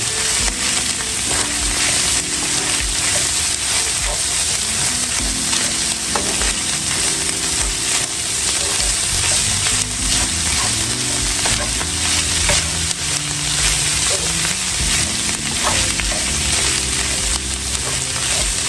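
Dirty rice mixture stirred in a hot pan for blackened catfish and dirty rice, with steady scraping and continuous sizzling frying, close and even throughout, no talking.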